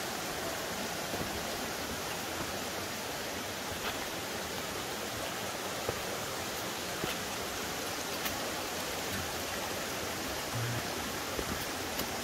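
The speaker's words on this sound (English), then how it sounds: "hearing the water rushing" A stream rushes along the Appalachian Trail, a steady, dense roar of flowing water that holds constant throughout, close and unbroken, with no voices.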